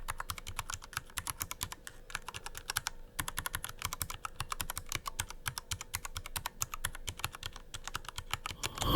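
Steady typing on a mechanical keyboard fitted with wood-look double shot keycaps, a dense stream of crisp clacks with one brief pause near three seconds, close and alone.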